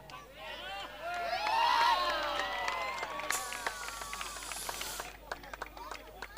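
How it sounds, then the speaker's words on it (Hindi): A crowd at a cricket tournament prize ceremony claps and cheers at a distance, with a swell of applause and shouting that later thins into scattered claps amid murmuring voices. "जोरदार तालियां होनी चाहिए बिली के लिए"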